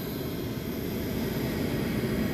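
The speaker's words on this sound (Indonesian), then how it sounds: "ada pesawat Batik Air yang saat ini proses take off" A Batik Air jet airliner takes off from runway 18 at an airport, producing a loud, continuous low-pitched engine roar with broadband rumble. The noise holds steady and grows slightly stronger, with no voices.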